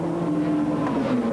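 The number 9 race car comes in during the Spa 24 Hours with a camshaft engine problem, a brief, steady engine drone with a sustained tone, fairly close and not overlaid by talk.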